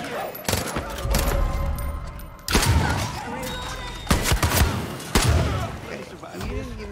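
Gunfire at enemies in the game Far Cry New Dawn, several sharp loud shots and bursts in quick succession, with a voice talking between and over them.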